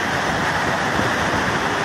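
The Cachoeira do Urubu waterfall in Piauí gives off a steady, loud, unbroken roar of rushing water with no voices.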